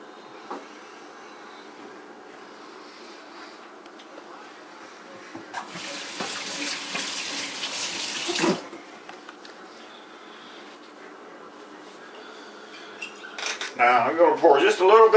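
Water poured into a roasting pan holding a sausage-stuffed pork loin with bacon and mushrooms, a brief hissing splash of a few seconds amid a quiet kitchen, followed by a voice starting to talk.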